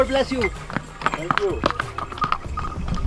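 Mule hooves clip-clop on the mountain trek trail to Tungnath temple in October, with scattered uneven footfalls close by under people talking.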